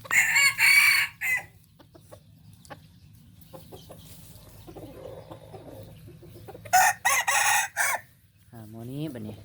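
Roosters crow loudly in a pen of mixed-breed young fighting cocks at evening, with two bursts close by. Softer clucking fills the gaps between them.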